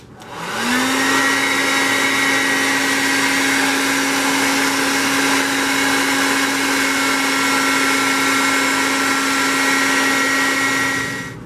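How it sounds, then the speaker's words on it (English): A hairdryer drying a photopolymer letterpress printing plate blows steadily at close range with a constant whirring hum, running alone from start to finish without pause. "All that remains now is to dry the plate with a hairdryer."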